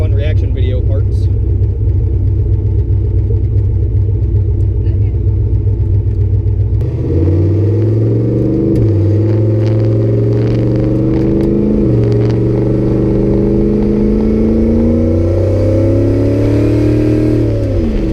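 A turbocharged Buick's engine idles with a deep rumble, then revs and accelerates through several gears, each shift dropping the pitch before it climbs again; loud and close from inside the car, with talk over it.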